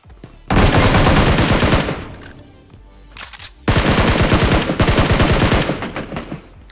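Game gunfire in BGMI comes in two long, loud bursts of rapid automatic shots, separated by a short lull, dominating the scene.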